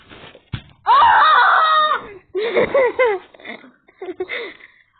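A person screams loudly in several strained, shrill bursts, with short pauses between them and talk nearby.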